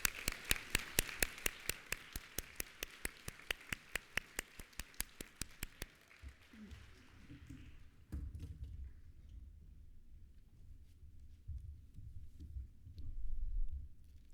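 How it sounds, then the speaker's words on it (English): A nursing pinning ceremony audience gives a brief, sparse round of applause: a few distinct claps in a steady rhythm for about six seconds, then they stop and quiet room murmur and shuffling take over. "please take a round of applause"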